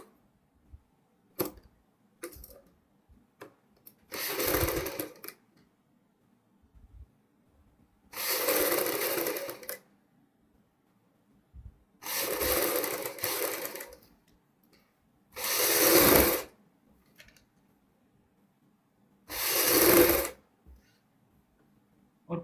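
A sewing machine stitches the front neck band of a blouse in five close, fairly loud bursts of about a second each. Short quiet gaps and small handling noises fall between the bursts.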